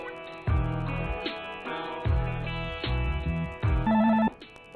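A telephone rings from inside a character's stomach in the comedy video game Crazy Hangover 3, with loud repeating ring bursts, a low muffled thump under each, and a brief tonal beep near the end.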